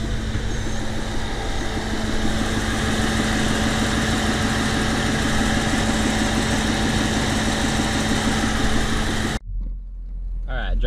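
The engine of a 1993 Chevrolet Corvette C4, just repaired after a misfire, runs with a steady, even drone close by, then cuts off abruptly near the end.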